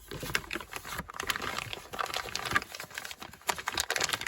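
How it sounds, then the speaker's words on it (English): Plastic tarp crinkles and rustles as it is pulled down over a big, smooth, round stone while roofing a greenhouse: a steady run of close, crackling rustles with a few sharper bursts, no talking. "And I pull quite a bit of the tarp down, like 2 inches over the rock"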